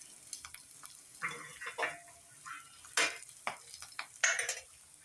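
Tadka of hing and turmeric in a small tempering pan gives faint, intermittent crackles, with several clinks and scrapes of a spoon against metal between the short bursts of sizzle.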